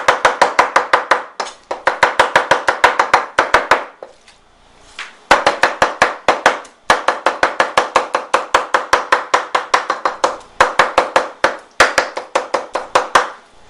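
A knife chops ingredients on a board for a pork and shrimp stuffed tofu filling, producing fast, regular, loud close-up thuds in long steady bursts with one brief pause.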